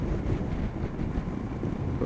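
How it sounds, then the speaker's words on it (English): Steady, blustery wind buffeting a microphone on a 2014 Kawasaki Versys motorcycle ride, a constant low rumble throughout with no voices. "it is a very windy day today"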